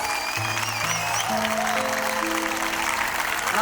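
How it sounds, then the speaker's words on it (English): Audience applause for a graduating class at a school graduation ceremony, dense steady clapping throughout with sustained musical tones and a brief whistle-like sound over it. "Let's give them a huge round of applause."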